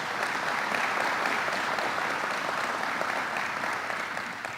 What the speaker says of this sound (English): And let's give him a round of applause, Senator Tom Libous.